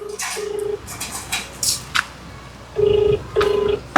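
Phone line tones after a call ends: repeated short steady beeps, two near the start and two near the end, with faint background noise.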